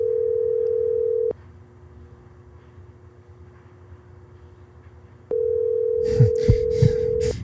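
An unanswered telephone call sounds as a steady electronic ringback tone in two long bursts separated by a few seconds of quiet line hiss, with some brief rustling noises near the end.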